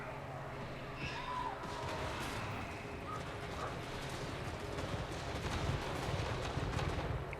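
Units opening fire in a Warhammer battle game with a Slayer army led by Ungrim Ironfist: a dense, constant rumble of gunfire and battle noise at a low, steady level.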